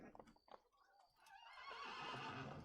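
A horse neighs in the video game Assassin's Creed, a brief whinny with clip-clop hoof sounds at the start, followed by louder rushing ambient game noise; quiet overall.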